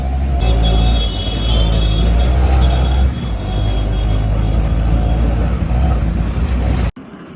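An auto rickshaw's small engine drones loudly and steadily up close, with brief dips and revs, riding through traffic toward Bandra Terminus.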